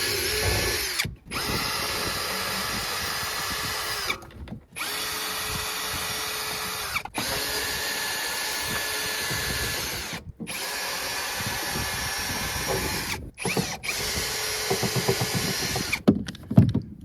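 Cordless power drill backing screws out of the gas tank cover on a 2003 Triton TR20 bass boat, running in long steady whirring stretches separated by brief pauses, close and alone.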